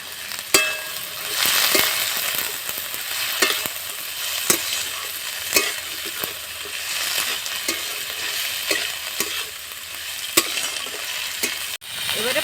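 Chopped cabbage fries in a pan with a steady, moderate sizzle while a spoon stirs and scrapes it, giving irregular sharp clicks and taps against the pan throughout.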